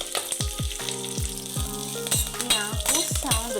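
Chickpea leaves fry in a little oil in a pan over a low flame, with steady crackling sizzle and repeated stirring scrapes at an even rhythm, close up and without talk.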